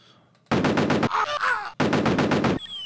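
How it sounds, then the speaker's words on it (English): Grenades fired in the video game Cannon Fodder: two long, loud bursts of rapid crackling blasts separated by a short gap with a softer whooshing rumble. "I accidentally launched two grenades"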